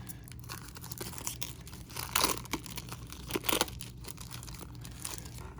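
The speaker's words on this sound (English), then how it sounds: "It's just so hard to get the scissors in there." Scissors snip and tear into the packaging of a 1996 trading card box, giving close crinkling, crunching cuts with a couple of louder bursts of tearing and no talk.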